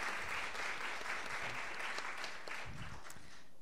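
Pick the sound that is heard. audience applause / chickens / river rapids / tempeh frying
audience applause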